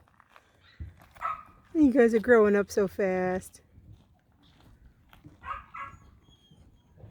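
Young puppies yip and whimper in a quick run of high, rising cries lasting about two seconds, close by, followed by fainter whines while a person talks to them nearby.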